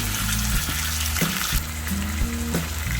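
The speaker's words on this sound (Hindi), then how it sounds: "अब इसमें डालते हैं अपना टमाटर जो है," Chopped tomatoes hit hot oil in a pan while moong dal is being cooked, setting off a loud continuous sizzle and frying crackle with a few clinks of utensils against the pan.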